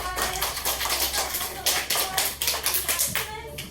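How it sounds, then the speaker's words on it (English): Children in a classroom clap for a student, a dense patter of small hands lasting several seconds over a low background hum, fairly close and steady. "Let's give Maximus a round of applause."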